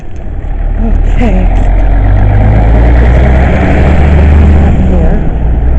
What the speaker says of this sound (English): there's a truck coming home